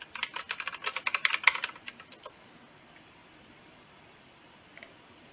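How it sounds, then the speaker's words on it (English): Fast typing on a computer keyboard, heard during an online programming class: a quick burst of dense key clicks for about two seconds, then silence and one last pair of taps. "Ah, Ronald's typing."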